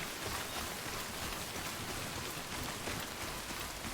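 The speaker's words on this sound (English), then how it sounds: "It is very heavy rain right now." Heavy rain in a video game on Very Hard difficulty, a steady, dense hiss of downpour with no letup, fairly quiet overall and with no talking.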